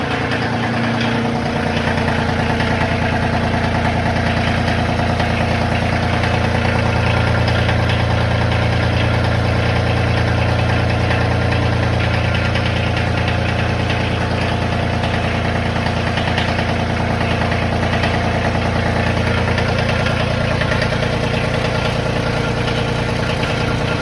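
A Kioti CK2610 compact tractor engine idles steadily nearby, a constant low droning rumble with slight vibration that holds evenly throughout, with no one talking.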